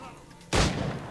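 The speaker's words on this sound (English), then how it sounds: "Alright, shoot this asshole again." Gunshots from Assassin's Creed IV, a sudden loud blast after a quiet moment, followed by a sustained rumbling wash of gunfire and echo.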